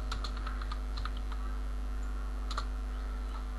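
Quick bursts of computer keyboard keystrokes as a short comment is typed, irregular clicks close by over a steady low electrical hum.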